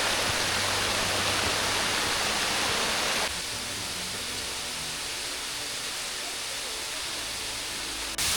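A mountain waterfall with low flow, heard as a continuous broadband rush of falling water, loud and close, with a slight change in tone partway through.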